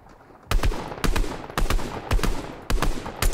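Sniper rifle gunfire in Fortnite: five loud, booming shots spaced roughly half a second apart, each with a sharp crack and short echoing tail, close up with no talk.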